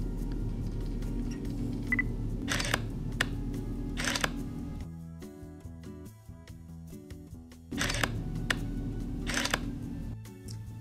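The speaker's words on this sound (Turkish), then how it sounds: "Gelin şimdi o zaman fotoğrafı çekelim." A camera fitted with a 50 mm fixed lens fires its shutter twice, each time a quick pair of sharp mechanical clicks standing out from a low steady hum, separated by a quieter stretch.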